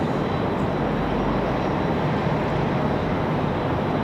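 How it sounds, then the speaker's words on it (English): A Brickyard airliner arriving at Raleigh Durham airport from LaGuardia, New York, gives off a steady loud roar of jet engine noise that holds level throughout without a break. "Brickyard 4436 coming in from LaGuardia, New York."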